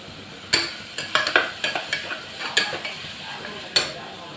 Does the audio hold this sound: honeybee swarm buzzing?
no